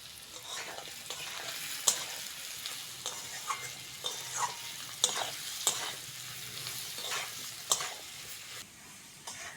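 Papaya and potato pieces fry with spices in a pan, giving a soft continuous sizzle punctuated by frequent clinks and scrapes of stirring, fairly quiet and without speech.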